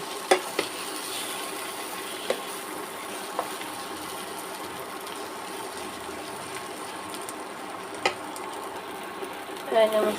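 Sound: stirring snakehead fish mash with mustard oil in pan

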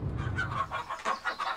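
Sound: chickens clucking at a farm

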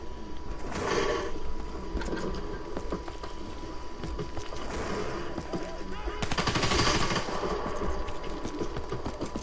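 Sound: gunfire in a video game

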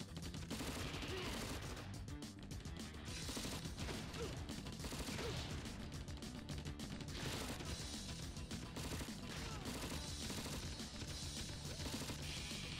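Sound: tanks firing guns in the video game Crisis

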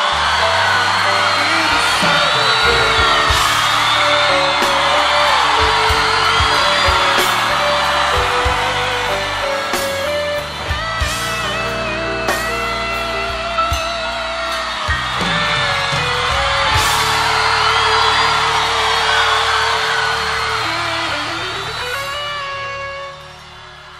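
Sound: concert audience shouting along with the singer

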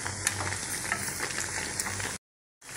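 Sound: potato pakoras frying in oil

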